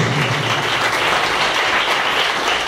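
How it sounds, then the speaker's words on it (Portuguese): A church congregation clapping hands together in praise, a dense, loud, continuous wash of many hands throughout. "Bata palmas e exalta a Deus."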